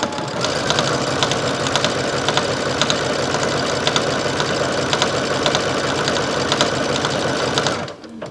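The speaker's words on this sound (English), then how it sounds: "I'm selecting a triple stitch. So it's basically going to go back and forth in place 3 times." A sewing machine runs steadily at close range for several seconds, its fast rhythmic mechanical chatter stitching a triple stitch seam that runs back and forth before the motor stops abruptly near the end.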